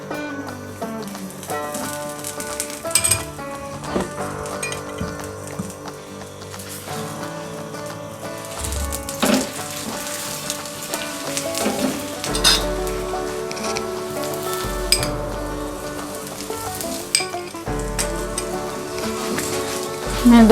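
Radish-stuffed paratha, oiled on both sides, sizzles steadily in a pan, a continuous hiss with occasional clinks of a utensil against the metal and low background hum, no talk.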